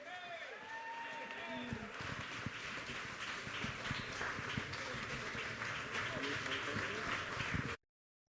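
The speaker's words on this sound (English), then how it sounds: "please give a round of applause to the 57th Governor of the State of New York" An audience applauds for New York Governor Kathy Hochul at the Schomburg Center in Harlem, with dense sustained clapping swelling after an announcer's voice and then cutting off abruptly.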